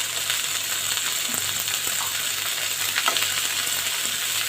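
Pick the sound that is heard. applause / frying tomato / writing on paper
frying tomato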